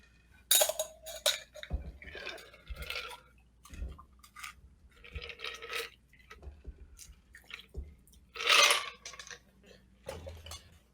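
A cocktail strained from a shaker into a fresh glass packed with ice, giving a series of close liquid splashes, drips and bright clinks of ice against glass in irregular bursts, with no talking.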